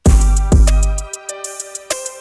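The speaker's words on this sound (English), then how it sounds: "what I did with that crash was I just put some reverb on there and some delay as well" A crash cymbal in an FL Studio beat hits with a long washy tail, then reverb, delay repeats and shimmering decay ring on, with faint tonal hits scattered after the main crash fades.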